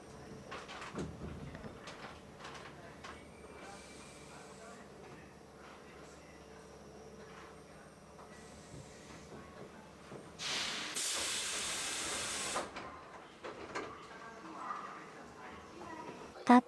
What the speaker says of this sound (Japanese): たった今、大宮、春日部から来た列車が来まして発車いたします。